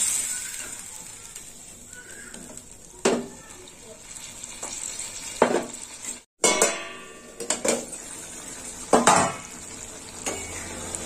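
A fish curry simmering and sizzling in a pan as water is poured in, with stirring scrapes and clinks of a utensil against the pan in bursts over a steady frying hiss, close and moderately loud.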